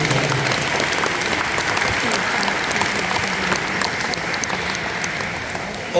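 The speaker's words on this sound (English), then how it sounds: "give a big round of applause to our teaching staff for being flexible like they are" An audience at a school band concert applauds for the teaching staff with dense, sustained clapping that fills the space loudly and evenly throughout, with a faint voice now and then beneath it.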